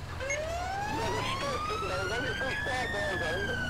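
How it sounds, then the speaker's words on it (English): A police car siren from GTA 5 with the LSPDFR mod, a UK-style wail that sweeps upward and holds, loud and close, over a low engine rumble, with a voice speaking underneath. "I have heard that siren come screaming past me"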